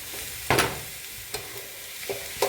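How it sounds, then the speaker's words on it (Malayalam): A spoon stirs cabbage thoran with grated coconut and cumin in a pan, giving a few distinct scraping strokes over a soft, steady sizzle, close and fairly quiet. "നന്നായിട്ട് യോജിപ്പിക്കാം"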